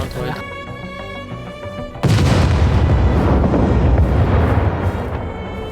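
A loud explosion in an Atomic Land roleplay video game erupts abruptly over a background of music, followed by a sustained deep rumble and crackling debris that slowly fades.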